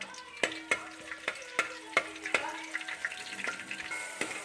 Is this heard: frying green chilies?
yes